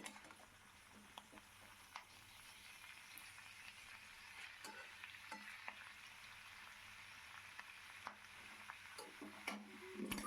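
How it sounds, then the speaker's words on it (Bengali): Thick-sliced onions and mixed vegetables fry gently in a pan, a soft steady sizzle with scattered light ticks and occasional stirring scrapes, fairly quiet and close. "সমস্ত সবজিটাকে এরকম করে হালকা হালকা করে ভেজে নিতে হবে।"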